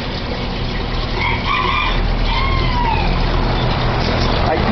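Chicken or rooster crowing inside a pet shop in the Philippines, with a couple of drawn-out calls standing out over a constant loud background hum and bustle.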